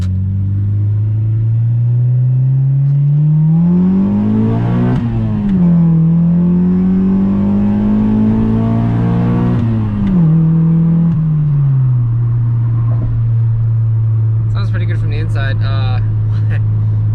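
A Honda D16 engine in an EJ1 car with an aftermarket exhaust idles with a deep burbling note, then revs up twice in quick succession before settling back to a low, rumbling idle.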